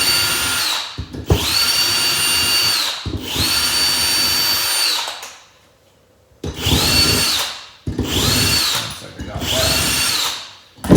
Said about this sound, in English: when you go to take one of these apart, you just undo these bolts right here